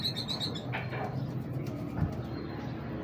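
Big breeder pigeons coo in low, throaty murmurs close by, with a few higher chirps at the start and a soft flutter of movement.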